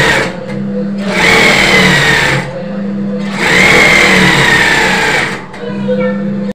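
A sewing machine motor runs with heavy, sticky oil and a weak dynamo, its whirring drone rising and falling in two long surges between quieter lulls, fairly loud and close.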